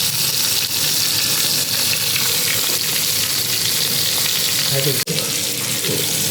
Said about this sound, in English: on the same pan as we kept the Indian sea bass on the edge of the pan, in goes the mussels